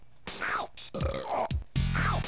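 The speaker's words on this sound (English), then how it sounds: "Keep burping." Three separate throaty burps from the Beavis & Butthead video game come close together, each a rough, drawn-out belch with brief pauses between them.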